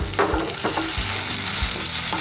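Chopped tomatoes fry in a hot pan with a steady, loud sizzle and occasional stirring scrapes, no voices.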